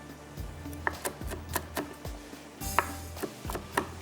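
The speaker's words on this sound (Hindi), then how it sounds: "बारीक बारीक चॉप कर देना।" Almonds and pistachios being finely chopped with a knife, close up, a steady run of crisp strikes about twice a second with no one talking.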